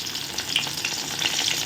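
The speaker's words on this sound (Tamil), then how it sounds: "எல்லாத்தையும் போட்டு நம்ம வதக்கலாம்" Chopped onion, curry leaves, green chilli, ginger and garlic sauté in hot oil in a pan, a close, steady crackling sizzle with light stirring and no talk.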